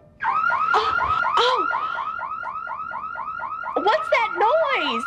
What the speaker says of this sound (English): It's the alien alarm. Just a home security system that Dex and I...